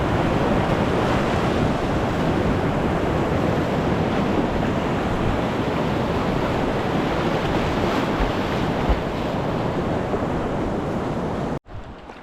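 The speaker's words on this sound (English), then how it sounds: "it's a fun little rapid, and I'd love to see a little more water on it." Whitewater rapid on the French Broad River at low water, a steady, loud rushing roar of churning water with wind buffeting the microphone throughout, cutting off abruptly at the end.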